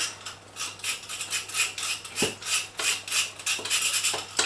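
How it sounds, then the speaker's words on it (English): A whole nutmeg is scraped against a grater over pumpkin pie mix, giving rhythmic, close raspy strokes repeated steadily, with a faint background hum underneath. "I'll put some couple of bit of grated nutmeg in"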